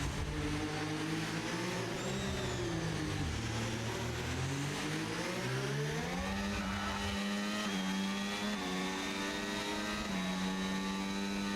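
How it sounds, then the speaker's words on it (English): Red Bull race car engine in a racing broadcast, revving loud and close with rising and falling pitch as it accelerates and shifts through gears, one continuous run with no speech. "The only positive thing about this car is the nice car sound."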